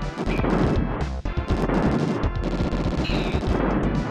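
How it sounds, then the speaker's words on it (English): Dense, continuous barrage of crashing and booming blasts with gunfire-like bursts from the SNES game Bazooka Blitzkrieg, loud and chaotic throughout with hardly a pause. "it's not just enemies that go boom, everything goes boom"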